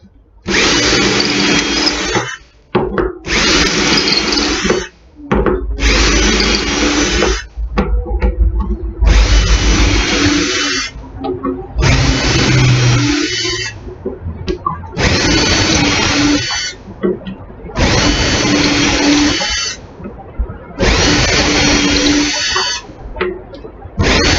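A power drill whirs in repeated bursts while building cabinets, about eight short runs with brief pauses between, loud and close, with a faint voice now and then.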